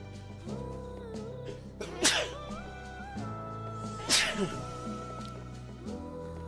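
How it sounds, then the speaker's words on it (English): Two sharp sneezes about two seconds apart, set over steady game music and tones from a relic weapons gaming session. "Just sneeze"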